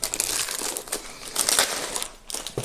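Plastic packaging crinkles and crackles as a Yu-Gi-Oh card portfolio binder is unwrapped by hand, close-up bursts of crumpling and tearing in an irregular rhythm.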